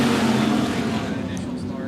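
Race cars roar around a short-track speedway in a heat race under green flag racing, a dense, continuous engine drone at a middle distance with no distinct pass-by, steady in level throughout.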